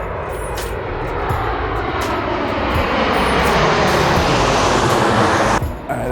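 A fixed-wing airplane comes in to land, its engine roar building into a loud, sustained rumble overhead before cutting off abruptly near the end.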